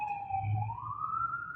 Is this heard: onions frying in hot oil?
no